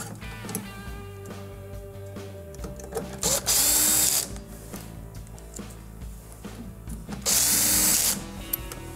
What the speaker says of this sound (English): We can now reinstall the valve with the 2 1/4 inch screws we removed on the side.